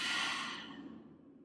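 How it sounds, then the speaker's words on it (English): A single deep exhale through an open mouth during a chair yoga practice, soft and breathy, trailing off gradually over about a second. "Open mouth, exhale."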